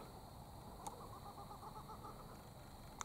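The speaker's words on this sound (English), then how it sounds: "Listen to that, a kookaburra." A kookaburra calls far away, a faint run of rapid repeated pulses heard over steady background hiss.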